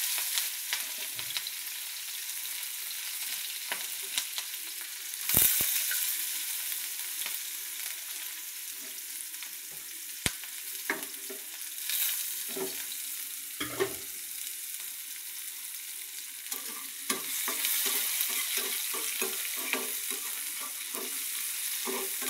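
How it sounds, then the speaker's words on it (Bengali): Chopped onions fry in hot oil in a kadai, a soft steady sizzle broken by scraping stirs and occasional clinks of the spoon against the pan, with no talking. "এখন আমি পেঁয়াজ কুচি দিয়ে দিব।"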